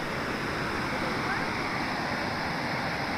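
Steady rushing flow of the river at Grutas de Tolantongo hot springs in Mexico, a continuous broadband wash of water heard up close with no pauses.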